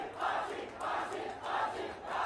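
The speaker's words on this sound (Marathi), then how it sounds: "मोठ्या प्रमाणात गर्दी या ठिकाणी जमलेली आहे आणि जोरदार घोषणाबाजी या ठिकाणी केली जाते" A protest crowd at Badlapur railway station chants slogans in a steady rhythmic cycle, each swell rising and falling about every second and a half, heard from a distance and fairly faint.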